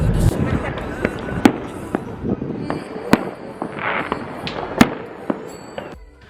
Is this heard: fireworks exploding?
yes